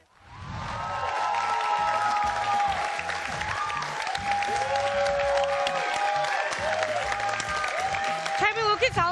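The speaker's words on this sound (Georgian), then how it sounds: "ეს აპლოდისმენტები ავთანდილს ეკუთვნის" An audience applauds in a long, even burst of clapping that fills the whole stretch, with voices and tonal sounds carrying over it.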